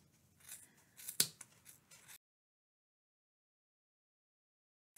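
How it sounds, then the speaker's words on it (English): Scissors snipping through the yarn loops of a pom-pom, a quick cluster of close, crisp cuts with one sharp louder snip, then silence for the rest. "and start cutting."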